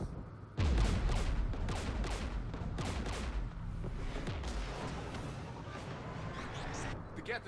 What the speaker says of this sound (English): The Geth installed anti-aircraft guns beside the jamming tower.